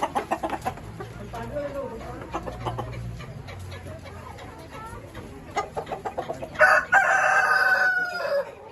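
A rooster crows loudly nearby near the end, following stretches of hens clucking and soft voices talking in the background.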